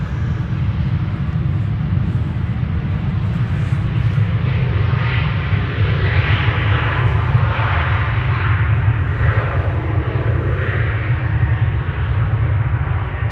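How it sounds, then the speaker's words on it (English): German Airways Embraer jet taxiing at Amsterdam Schiphol Airport, operating for KLM, a heavy low engine rumble with a rising and falling whine above it, close and steady for the whole stretch. "German Airways, Embraer on the move, flying on behalf of KLM."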